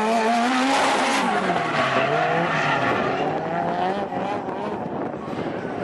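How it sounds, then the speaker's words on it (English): A race car drifts under handbrake with loud, sustained tire squeal and skidding over a steady engine roar, close and continuous throughout. "Nico's handbrake there, handbrake for Thomas as well."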